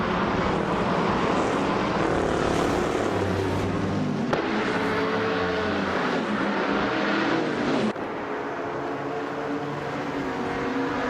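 A pack of race cars, including LMP3 prototypes like the 2016 Ligier JSP3, roaring off the start at the Autodromo Hermanos Rodriguez retro track in a racing game, a loud steady engine roar with shifting pitch throughout.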